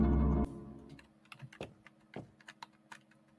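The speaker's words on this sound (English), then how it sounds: "you still hear my keyboard real loud?" Computer keyboard typing during a Dark Deception horror game session, a loud opening burst followed by scattered, irregular clicks and taps at close range with no talking.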